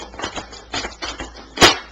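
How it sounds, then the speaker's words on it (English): Playing cards being shuffled by hand in a quick series of crisp riffling bursts, close and dry, ending with a sharper snap as the deck is squared. "I had to finish shuffling"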